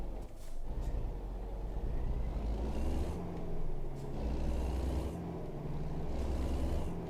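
Kenworth American truck engine rumbling steadily up close, with deep continuous low drone and a few brief hissing bursts like air brake releases, no talking.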